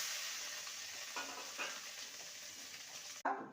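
Soya chunks fry in a pan with turmeric, a soft continuous sizzle broken by faint stirring scrapes and a sharper clack near the end, quiet and close.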